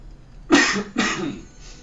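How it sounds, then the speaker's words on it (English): A speedrunner coughs twice in close succession near the microphone, two sharp harsh bursts a beat apart with a brief throaty tail after each, then quiet. "This cough, man, fuck."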